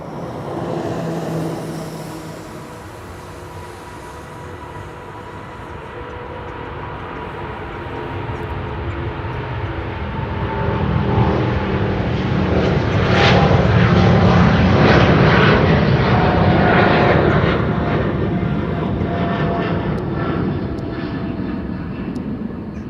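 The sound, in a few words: KLM airliner taking off from runway 09 at Schiphol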